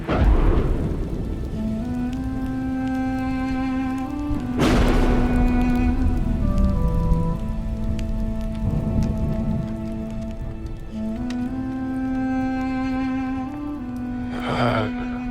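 Heavy rainstorm pattering steadily on surfaces with thunder cracks breaking through, close and loud throughout, beneath a sustained musical score.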